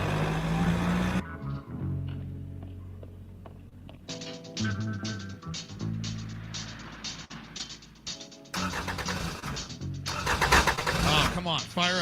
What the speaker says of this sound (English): You guys are gonna hear my engine.